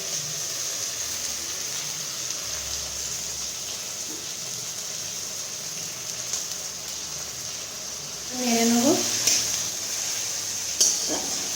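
Ginger garlic paste frying in a hot pan for an egg curry, a steady close sizzle throughout, with a brief louder burst of bubbling and scraping near the end.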